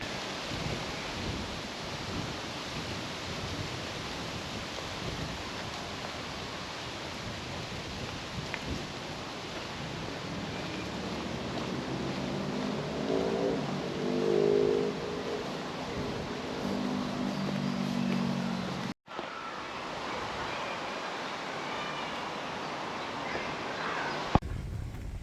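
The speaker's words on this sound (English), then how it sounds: "Wind's really picked up now." Strong wind buffeting outdoors on the Sandstone Trail, a continuous loud roar and rumble with gusts swelling and fading throughout, close and unbroken.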